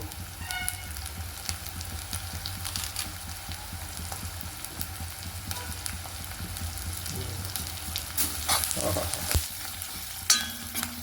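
Multivitamin leaves and curry leaves hit hot oil in a pan and fry with a continuous crackling sizzle, near and steady, with occasional louder spatters and stirring scrapes toward the end.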